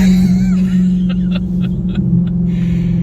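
A modified Dodge Hellcat of over 1000 horsepower, driven at half throttle, gives a deep rumbling engine drone with a steady low hum inside the car.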